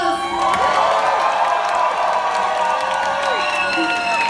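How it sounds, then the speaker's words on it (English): A concert crowd at Revolution Live in Fort Lauderdale cheers, whoops and applauds loudly after a performance, with shouting voices rising over a steady, dense roar of clapping. "can we give them a round of applause?"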